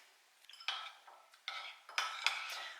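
Salad components being tossed in a bowl with utensils: several light clinks and scraping taps in an irregular rhythm, close and fairly quiet, no talking.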